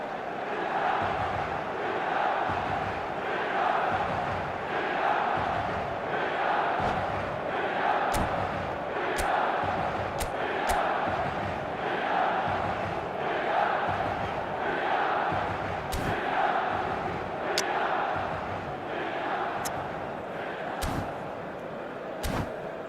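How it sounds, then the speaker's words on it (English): A packed stadium crowd in a football video game cheers and chants in a loud continuous roar, with rhythmic swells, occasional sharp thuds and a commentator's voice faintly mixed in. "stadium is full of noise and energy."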